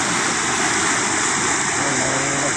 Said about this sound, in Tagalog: ang malaking tubig at malakas.